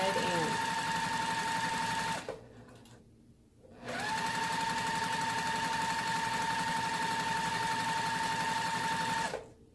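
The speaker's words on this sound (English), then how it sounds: "we're stitching beyond the foundation" A quilting sewing machine stitches fabric strips onto a foundation in two close, loud, steady whirring runs with a brief pause between them, as for a Diamond Strings block. Speech is picked up under the machine.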